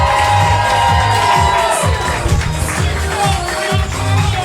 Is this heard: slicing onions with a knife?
no